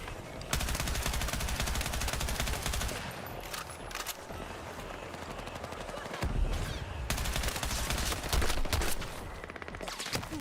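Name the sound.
gunfire in Battlefield 6 video game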